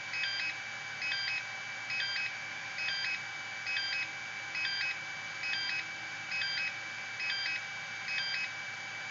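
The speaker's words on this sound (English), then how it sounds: "that's the beep that tells you it's done charging" A Dynamite AC LiPo charger signals a finished charge with repeated short double beeps at an even pace, about ten in a row, over a constant electronic hum.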